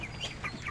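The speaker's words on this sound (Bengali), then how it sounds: "এটা আছে ব্রয়লার মুরগির খামার।" Broiler chickens on a hot poultry farm clucking softly: faint, brief chirpy clucks scattered over a low background hum, distant and quiet.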